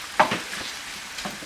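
Meat for a game pie filling sizzles in a pan while being stirred, soft frying hiss broken by a couple of sharp scraping strokes of the spoon, close and fairly quiet.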